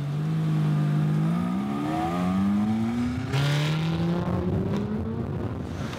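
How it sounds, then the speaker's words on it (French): A Ferrari sports car driving in Singapore, its engine note droning and rising through gear changes with a whirring tone, fairly close and steady throughout, no voices. "Comme Jay, qui fait une virée de 15 minutes au volant d'une Ferrari."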